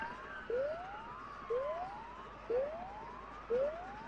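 A police siren in the Go To Bed horror game wails in four evenly spaced rising sweeps about a second apart, moderately distant and alone.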